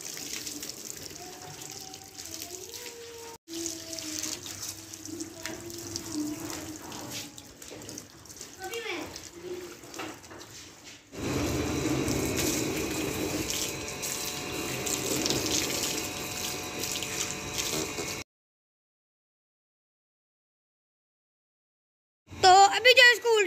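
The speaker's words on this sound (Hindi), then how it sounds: "अभी जो है पानी की मदद से जो है इसको धो लेंगे" Running tap water splashes over a metal box being rinsed in a sink, steady and close with shifting splash tones, followed by a silent gap and a brief burst of flow at the end.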